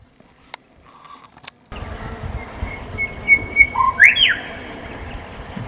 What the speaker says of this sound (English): While I was having lunch I was entertained by the lovely whistling of a little bird up there in the tree